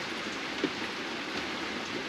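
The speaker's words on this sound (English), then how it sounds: "Very rainy day." Steady rain falls on a sailboat moored at Nelson Bay, Port Stephens, New South Wales, during a stormy day, a constant soft hiss of drops with no voices.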